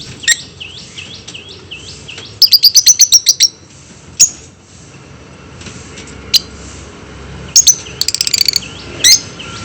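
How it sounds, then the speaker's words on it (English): Small African lovebirds give sharp, high chirps and rapid trilled bursts of calls, loud and close, scattered in clusters over a quiet background. "The second, chirping sounds of the birds."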